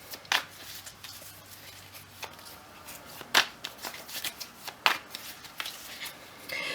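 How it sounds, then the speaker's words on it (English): Tarot cards being shuffled close up by hand, quiet riffles and crisp slaps in uneven bursts with soft rustling between them and no talking. "let's see what's in store for you for November"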